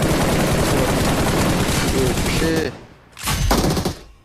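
Automatic gunfire in a PUBG battle royale match, dense rapid bursts running for about two and a half seconds, then a brief gap and a second loud burst, with a voice speaking briefly.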